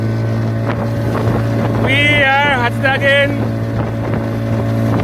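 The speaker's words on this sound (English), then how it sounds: "We're going to put on the Parson 40 horsepower engine on this craft here, and then we'll be on our way." A small fishing craft runs at sea under a Parson 40 horsepower outboard engine, giving a steady, close motor drone with wind buffeting the microphone while someone talks and sings over it.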